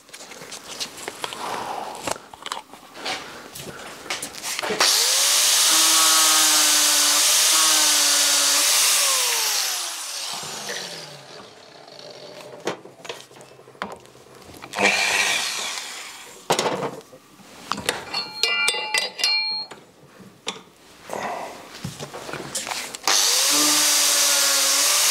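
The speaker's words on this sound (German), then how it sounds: "Schleifen wir ein bisschen ab." A power sander works over an old PAR AIDE HiO golf hole cutter being restored in a workshop, coming in loud, steady bursts with rising and falling whine, separated by quieter handling noises and clatter.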